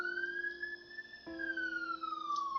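A wailing electronic siren in the College Football 2020 video game, a steady tone rising and then falling, heard alone at moderate volume with a faint background hum.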